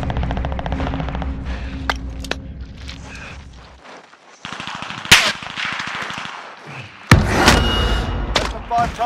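Gunfire in Call of Duty: Rebirth, including the BAR: sharp rapid bursts and heavy single shots, loud and close, broken by thuds and a quieter stretch, with radio-style voices talking in between.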